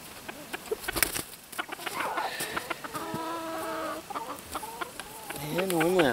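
Young hens on an off-grid homestead, all a year old or less, cluck and chatter close by in short, varied calls that rise into a steadier run of clucking, with faint speech in the background.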